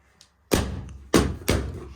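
Three leftover birthday balloons bursting in quick succession indoors, each a sharp, close pop with a short ringing tail, after a near-silent start.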